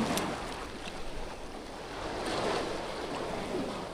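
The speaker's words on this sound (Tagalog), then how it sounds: "Ang lakas ng alon." Rough, rushing sea surf off Fortune Island, Nasugbu, Batangas, with wind buffeting the microphone, the wash swelling and easing as waves roll in close by.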